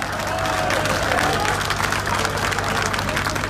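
Dense applause and cheering from a large crowd at a political rally in Rohtak, a steady wash of clapping that holds evenly throughout at moderate loudness, with no clear speech on top.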